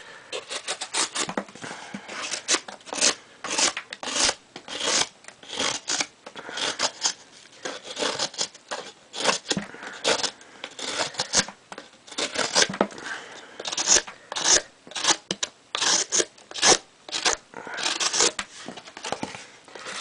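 A custom-made knife slicing through a cardboard box, giving a fast run of close, scratchy tearing strokes in quick irregular bursts with no voice over them.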